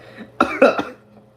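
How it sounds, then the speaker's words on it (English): Three quick, harsh coughs in a short burst, close and loud, then quiet. "Sorry if I'm coughing."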